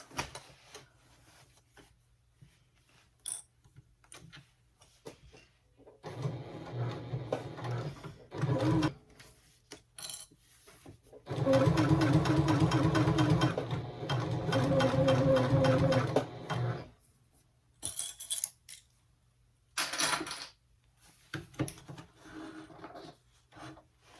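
Sewing machine stitching straight across the bottom seam of a tote bag, in several bursts of whirring needle chatter separated by quiet gaps and small handling clicks.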